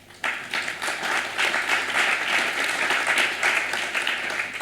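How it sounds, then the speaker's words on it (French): An audience at an ethics lecture event bursts into applause to welcome speaker Paul Loup. The steady clapping from many hands begins abruptly after a brief quiet moment and continues evenly. "je donne de suite la parole à Paul Loup, que vous pouvez applaudir"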